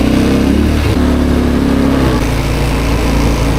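A nearby ATV engine revs loudly on a street at Lake Atitlan, Guatemala, its pitch climbing and dipping under throttle, then dropping to a steady drone as it pulls away, with no talk.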